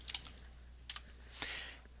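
A few quick bursts of keystrokes on a computer keyboard while a formula is entered into Excel, sparse close clicks separated by short pauses, with no talking.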